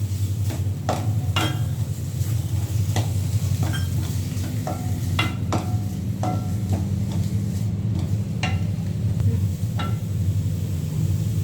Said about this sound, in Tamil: நான் வந்து தேங்காயும் தக்காளி மட்டும் வணக்கிக்கிறேன்